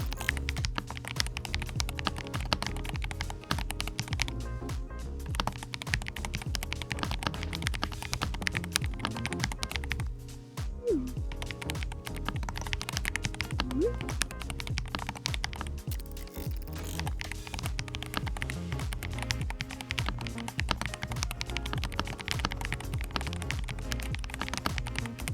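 Rapid typing on a Corsair Vanguard Pro 96 Hall Effect keyboard, a dense, continuous stream of close key clicks and taps with no voices.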